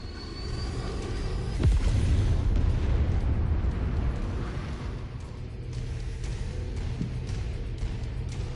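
A mech target blows up in MechWarrior 5: Mercenaries, a deep rumbling explosion that swells near the start and then rolls on as a long low roar under steady engine-like drone.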